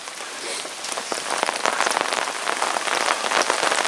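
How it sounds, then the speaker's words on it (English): Steady rain patters onto a carp fishing lake, with dense, continuous drops hitting the surface close by and no voices over it. "we've had this raining for a few hours now"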